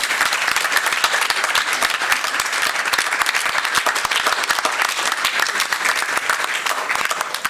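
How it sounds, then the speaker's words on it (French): Dense, sustained applause from a conference audience at the close of a two-day colloquium on autism in adulthood, loud and even throughout with no voices standing out. "Un tonnerre d'applaudissements pour ces deux."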